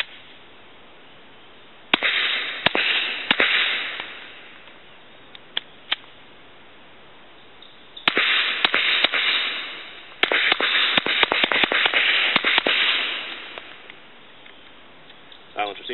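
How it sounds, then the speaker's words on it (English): Suppressed Glock 9mm pistol fired into dirt outdoors: sharp, muffled cracks come in a few bursts, several spaced shots then a rapid cluster, each followed by a brief hiss of impact. "Shoot a couple rounds into the dirt"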